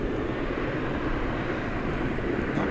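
An Alaska Airlines jet at DFW Airport at night, a steady broadband engine roar, even and sustained at moderate distance, with no talking.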